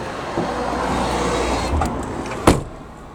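An electric linear actuator slowly pushes a slide-out, giving a steady whirring motor hum that runs for about two and a half seconds, ending in a sharp clunk and a quieter tail.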